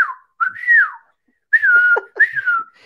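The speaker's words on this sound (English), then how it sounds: "shout a wee whistle for you" Someone whistles a short tune in three bright, sliding phrases separated by brief pauses, close and clear with nothing else in the background.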